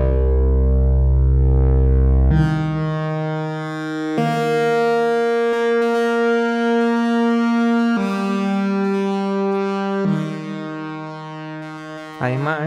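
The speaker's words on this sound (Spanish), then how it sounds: "Si usamos el filtro y el oscilador como destino, podemos generar un tipo de distorsión muy interesante" A Behringer Poly D analog synthesizer plays sustained buzzy, harmonically rich notes, distorted by modulating its filter and oscillator. The pitch steps to a new level every couple of seconds, loud and continuous.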